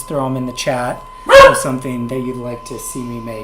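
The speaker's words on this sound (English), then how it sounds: "Sorry, that was my dog barking." A pet dog barks several times in a row at a home pottery setup, clear, close yips under and between a person talking, with one louder burst in the middle.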